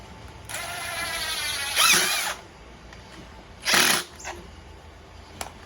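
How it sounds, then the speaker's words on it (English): A 5/16 socket tightening nuts while installing a diesel heater: a steady whirring power driver runs for a few seconds, then short louder bursts and a ratcheting pause, close and without talk. "I'll grab a 5/16 socket for that. And tighten them up."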